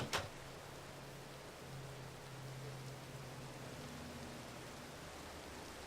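Steady rain falls in the Minecraft video game, an even, constant hiss throughout that opens with a brief soft thump.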